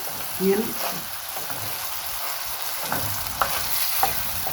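Food frying in a pan and being stirred while a purslane tagine is cooked, with a steady close sizzle and intermittent scraping of the spoon against the pan.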